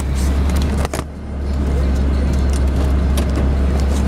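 Steady low idle of an older car with 119,000 miles, a suspected rod knock and a smooth-engaging transmission, humming close and fairly quiet, with a brief dip near one second and faint background rustle.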